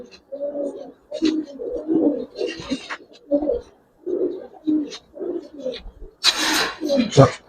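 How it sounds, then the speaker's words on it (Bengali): A male Giribaz pigeon coos in several short, soft bursts nearby, separated by pauses, before a louder rustling burst near the end. "এটা একটা নর কবুতর।"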